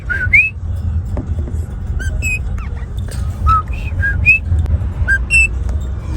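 A parrot at an animal market in Italy gives a run of bright, rising and falling whistles and squawks, close and clear over a steady low crowd murmur.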